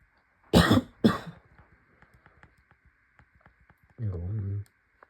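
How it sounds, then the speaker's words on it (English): Two sharp, loud coughs from a person gaming, followed by faint clicking and a brief low vocal sound. "Sorry about me coughing so much."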